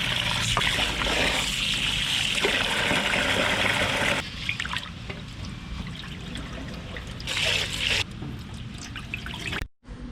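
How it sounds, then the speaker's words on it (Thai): Water trickles and splashes as glutinous sticky rice is washed in a kitchen, a steady close pouring stream with small drips, easing off briefly near the end. "เราต้องล้างข้าวเหนียวก่อนนะคะ"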